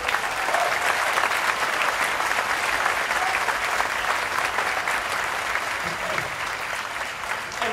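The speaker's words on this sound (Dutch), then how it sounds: "applaus voor Kjell." An outdoor festival crowd on a town square claps steadily for nearly eight seconds, a broad, even wash of applause at moderate distance with no voice over it.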